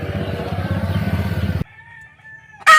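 A brooding native hen sitting on her eggs clucks in a low, rapid, steady run close by, then falls quiet apart from a faint thin tone before a short burst of noise.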